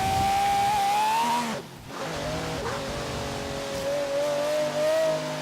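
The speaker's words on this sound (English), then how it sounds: "this thing's supposed to sound like an F1 car, Mike" An F1-style race car engine in Forza Horizon 3 revs loudly and continuously with a high whining tone, briefly dropping off as it shifts, then climbing again.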